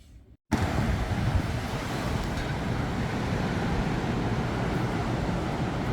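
Violent storm winds of Storm Nils batter Bordeaux, a loud, continuous roaring rush with heavy low-end buffeting against the microphone, cutting in abruptly after a brief near-silent gap and holding steady without voices.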